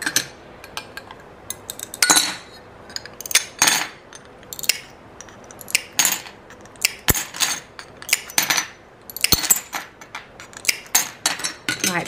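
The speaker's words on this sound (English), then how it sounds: "You can see how easy it cuts from the larger sheets." Mosaic glass pieces nipped from larger sheets, giving a long run of crisp, close snaps and glassy clinks in an uneven rhythm, some louder than others, with no voices.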